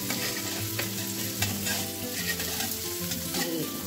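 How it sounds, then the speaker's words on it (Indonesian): Shallots stir-fried in hot oil in a pan for spicy vegetable fried rice, a dense continuous sizzle with scraping stirs from a spatula throughout, close and steady with no voices. "Oseng-oseng, tumis-tumis."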